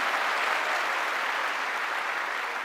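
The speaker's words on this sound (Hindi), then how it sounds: "प्लीज इनके लिए जोरदार ताली हो जाए" A live audience applauds a guest at a business talk, producing steady, dense clapping that holds at an even level throughout with no voices standing out.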